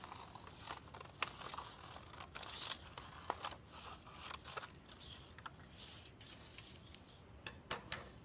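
Scissors snip through paper while a child's self-portrait face is slowly cut out and the sheet turned, giving soft irregular crunching and crinkling clicks close by, with no talking.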